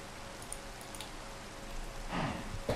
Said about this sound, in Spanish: está amaneciendo. Sí, señor, pero sigue lloviendo